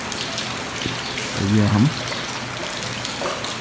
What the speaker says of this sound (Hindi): बहुत ही ज़बरदस्त बारिश लगी हुई है।